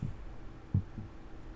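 Slow, muffled heartbeat thumps, low and soft, a few beats spaced irregularly over a quiet hum: a low-health warning sound effect in a Roblox game.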